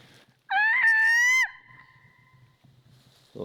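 A screech owl call played from a device in an Alaskan forest camp: one loud, shrill, wavering screech lasting about a second, followed by quiet with faint background noise.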